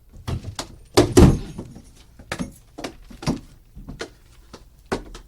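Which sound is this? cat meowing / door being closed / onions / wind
door being closed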